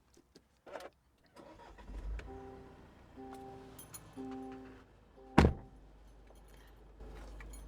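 A few clicks and a thunk, then the engine of a 2021 Land Rover Defender, 240 bhp, cranks in short repeated bursts before catching with a loud bang and settling into a low idle.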